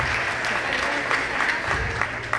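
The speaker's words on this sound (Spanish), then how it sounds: "Un aplauso para Luis Tomás Gámez" A crowd at a live show applauds Luis Tomás Gámez, a continuous wash of clapping with a few cheers and voices mixed in, steady and fairly loud throughout.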